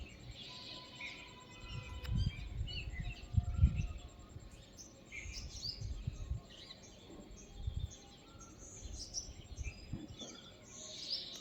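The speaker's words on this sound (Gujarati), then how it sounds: "પક્ષીઓએ બોલી રહ્યા સવારમાં." Birds chirp faintly in the morning after light drizzle in an open outdoor spot, scattered high tweets over a low rumble of wind and distant background noise.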